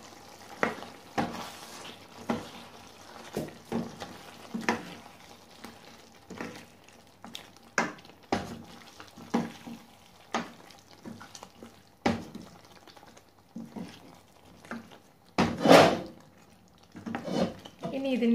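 Ground roasted coconut paste with fennel seeds poured into a pan for chicken piralan, giving a soft sizzle under repeated spoon scrapes and stirring clinks, with one louder burst of hissing near the end.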